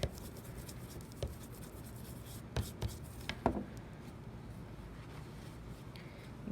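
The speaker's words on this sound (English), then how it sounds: "Just using the handle of the scissors to apply more pressure." Soft, steady scraping and rubbing of a scissors handle against paper close up, pressing a watercolor monotype print, with a few sharper taps and knocks scattered through.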